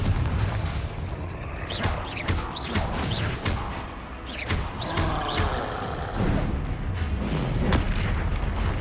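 A Confringo blasting spell going off in the Hogwarts Legacy video game during a fight near a troll: booming, crashing impacts and mechanical clatter, fairly loud and continuous, with no talking.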